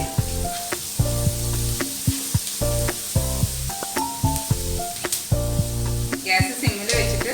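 Sliced onions sauté in a pan over a low gas flame, giving a steady sizzle with occasional stirring scrapes, heard alongside a rhythmic background music track.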